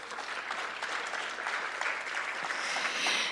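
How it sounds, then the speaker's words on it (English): An audience at an open education conference panel in Ontario applauds steadily, a dense continuous wash of clapping held at an even level throughout. "a big round of applause for everyone on the panel right now."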